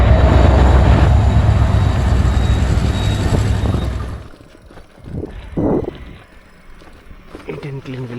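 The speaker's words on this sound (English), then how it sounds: "It's a long train." A long train rolls past a cyclist on a road through Assam tea country near Dibrugarh, a loud continuous rumble for about four seconds that drops away abruptly, leaving quieter road and wind noise with brief bursts.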